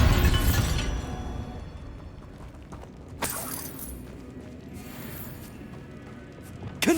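A Bombarda spell blasting a barricade in Hogwarts Legacy, a loud crashing burst of shattering debris at the start that fades out, followed by smaller cracks and a final sharp pop.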